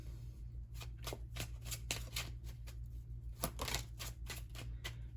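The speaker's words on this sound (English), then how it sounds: "Let's go ahead and shuffle up the tarot deck really quick here." Cards being shuffled in a steady riffle of crisp, rapid flutters, close and clear, with a low steady hum underneath.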